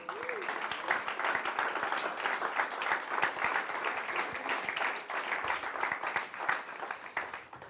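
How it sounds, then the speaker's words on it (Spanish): Steady, full applause from a congregation during a Spanish-language church sermon, dense clapping sustained evenly for about eight seconds with no voice over it. "¿Por qué no le damos un aplauso al Señor?"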